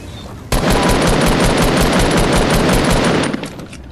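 Sustained automatic gunfire from a squad battle video game rattles in a loud, rapid, continuous burst for about three seconds, close and dominant, then cuts off abruptly.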